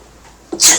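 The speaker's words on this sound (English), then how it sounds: "I knew the sneezing was coming on." A single sharp, close sneeze bursts out loudly after a moment of near silence.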